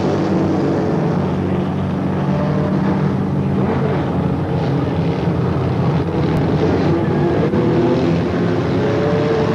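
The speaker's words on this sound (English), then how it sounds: "Mini Street Modified Racing action." Mini street modified race cars lapping an oval track, a continuous distant engine drone with steady wind rumble, no clear pass-bys standing out.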